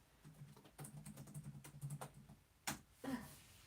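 Someone types on a computer keyboard in short, faint bursts of soft clicking, with a couple of sharper key taps near the end.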